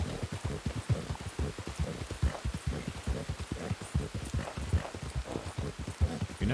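Steady rain falls in a Wild West video game while a horse's hooves clip-clop in a quick, continuous rhythm over it, with the downpour forming a constant hiss underneath.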